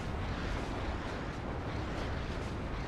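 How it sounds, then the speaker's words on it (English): Continuous rumbling artillery barrage from the real-time strategy game WARNO, dense overlapping explosions and booms rolling together at steady loudness with no clear gaps. "Once we have the artillery coming in here now."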